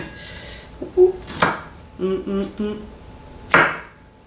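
A manual chopping machine works on onion, several sharp blade strikes and clattering chops in short bursts, close up, with brief talk between them.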